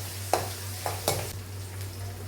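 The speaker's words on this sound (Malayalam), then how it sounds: "ഇതിലല്ലേ വെളുത്തുള്ളി ഇഞ്ചി നല്ലോണം ഇങ്ങനെ വാടി വരട്ടെ" Garlic and ginger sautéing in a pan for pickle, with a low steady sizzle, a steady low hum beneath it, and three or four scraping stirs of a spoon, moderately quiet.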